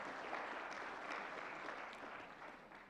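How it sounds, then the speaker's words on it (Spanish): Audience applause at a Bible seminar in a church, steady and dense clapping filling the whole moment at moderate distance, slowly tapering toward the end with no voices. "Sí, vamos a aplaudir"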